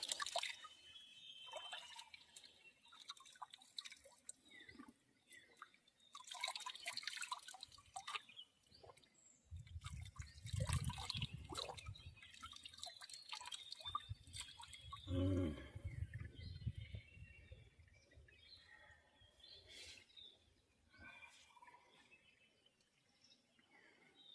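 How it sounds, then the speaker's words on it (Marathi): Spring-fed river water trickling and dripping near the bank, with soft irregular droplet patter, a few brief louder splashes and faint bird calls in the background. "आता नदीचं पाणी पिऊया एकदम झऱ्याचं पाणी आहे"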